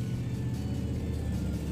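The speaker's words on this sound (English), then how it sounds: "Why do loud cars have to go by?" A loud car passes nearby, a steady low engine rumble that holds throughout the short stretch without any voices over it.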